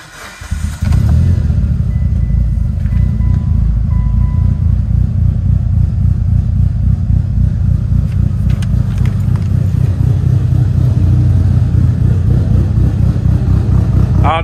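A warmed-up 2003 Mitsubishi Evo 8 with aftermarket cams starts after a short quiet moment and settles into a loud, close, rumbling idle with small revs, steady to the end.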